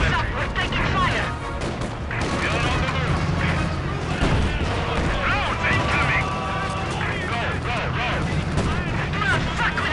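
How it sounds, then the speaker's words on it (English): Gunfire and artillery crash in Company of Heroes during a fight at the Poznan Citadel, dense overlapping shots and booms under shouted soldier voices. "Heads up, we're taking fire!"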